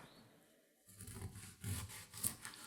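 A knife slices through a cucumber to trim off its end, heard as a soft, close scraping cut followed by a few faint rubbing strokes against a cutting board, no voices present.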